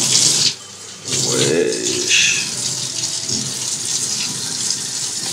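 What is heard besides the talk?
brown water running from a hotel room tap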